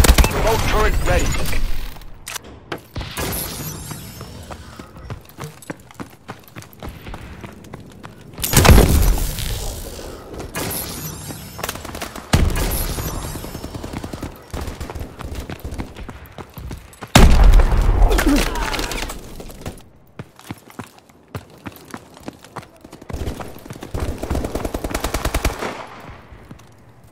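A remote turret in a video game fires long, loud bursts of machine gun fire in several separate volleys with brief pauses between them, accompanied by mechanical clatter and occasional voices.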